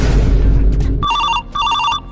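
A telephone ringing loudly in a home during a family comedy skit, with a bright repeating electronic trill in two bursts separated by a short gap, following a stretch of loud room noise.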